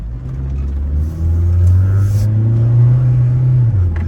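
A 1997 Honda Odyssey engine running while driving, with a steady low rumble that swells slightly as it is revved, continuous and fairly close, with no talking.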